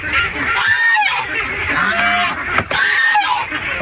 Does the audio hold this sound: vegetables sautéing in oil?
no